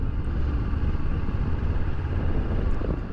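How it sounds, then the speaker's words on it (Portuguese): A 2018 Honda CB500X motorcycle engine drones steadily up close while riding in second gear, a constant rough rumble with wind noise and no pauses. "Sentindo a moto."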